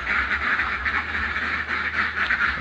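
Village ducks quack near their pen in a steady, dense chorus of overlapping calls, fairly loud and continuous, with no voices.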